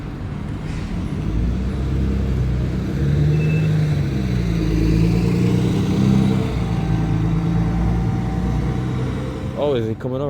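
A route 7 bus bound for Durham pulls in nearby with a low diesel engine drone and rising and falling gear whine. Background traffic runs underneath, and a voice comes in near the end.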